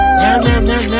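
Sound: kitten meowing

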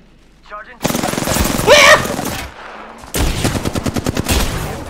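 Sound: gunfire in the video game Apex Legends

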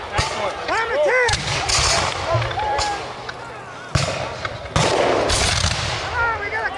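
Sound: musket gunfire in Revolutionary War reenactment battle

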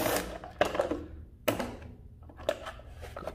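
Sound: Milwaukee impact driver removing 5/16 screws from engine air filter cover

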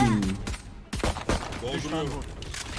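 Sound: gunfire in a shooting video game

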